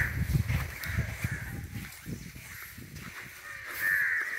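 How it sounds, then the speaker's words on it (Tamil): Crows circle over the Amaravathi Dam crocodile farm, giving repeated harsh caws at moderate distance among light outdoor background noise. "ஏகப்பட்ட காக்கா சுத்திட்டு இருக்குது"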